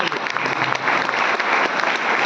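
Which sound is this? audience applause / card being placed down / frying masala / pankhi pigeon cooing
audience applause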